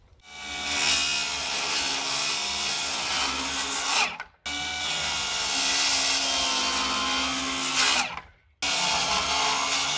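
A circular saw whines loudly through a wooden 2x4 in long continuous cuts, stopping briefly twice before starting up again.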